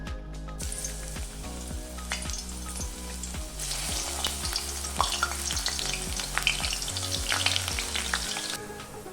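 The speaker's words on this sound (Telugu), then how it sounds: "ఇప్పుడు మనము ఈ కాకరకాయ ముక్కల్ని కొద్ది కొద్దిగా వేసి క్రిస్పీగా అయ్యేంత వరకు వేపుకోవాలి" Pieces of bitter gourd deep fry in hot oil with a steady, dense sizzle and crackle. Small bursts and occasional stirring run through it, and no one speaks.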